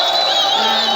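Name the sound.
crowd cheering and applauding at a political rally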